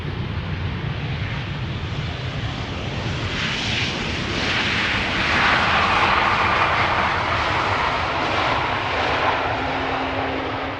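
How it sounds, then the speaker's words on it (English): A Transavia airliner arriving from Innsbruck at Schiphol Airport roars steadily overhead, loud broadband jet engine noise swelling slightly midway and holding without any talk. "Transavia flight 6602 arriving from Innsbruck in Tirol, Austria"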